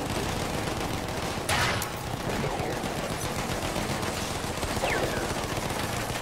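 Gunfire rattles on the battlefield in Battlefield 1, with dense machine-gun bursts and overlapping shots that run loud and continuous through the fight, broken by a few sharper cracks.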